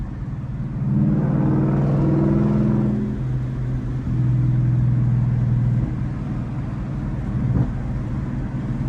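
A Ford Mustang Bullitt's engine drones steadily while driving, rising to a louder rumbling surge and then giving a brief exhaust burp near the end, heard alone with no talk.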